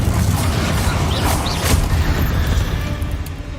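A Confringo fire spell goes off in the video game Hogwarts Legacy inside a tomb, a loud, deep booming blast with rumbling low tail and crackling bursts, no voices.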